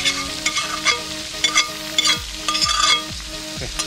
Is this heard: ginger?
yes